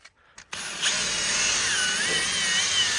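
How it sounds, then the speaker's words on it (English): A power drill fitted with a scrubbing brush attachment starts after a brief pause and whirs steadily, close and loud, the brush grinding against a surface while working on a VN 5.0 Berlina car. "Then I'm going to drill with a brush,"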